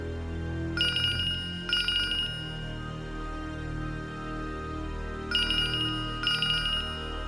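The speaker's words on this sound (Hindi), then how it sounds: "आपका फोन बज रहा है" A phone rings in two pairs of bright, trilling bursts separated by a pause, clear and close over a low steady background.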